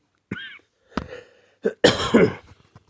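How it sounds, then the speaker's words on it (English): Several harsh, close coughs in quick succession, with a throat-clearing rasp and short pauses between bursts. "I've got a bit of a cough, as you can tell."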